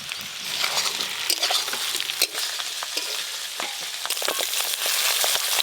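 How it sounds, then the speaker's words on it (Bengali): Prawns, potato and pointed gourd frying in spices in a pan, a steady close sizzle with repeated stirring scrapes and light clinks throughout, no talking. "মশলার সাথে আলু আর পটল খুব ভালো করে কষে নিয়েছি, এবার চিংড়ি মাছ দিয়ে দেবো"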